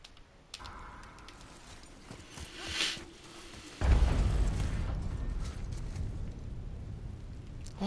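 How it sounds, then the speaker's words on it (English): Explosions in the video game God of War, a muffled rumble building around three seconds and then a loud booming onset near four seconds that sustains as a heavy, rolling roar to the end, with no talking. "Why am I hearing explosions?"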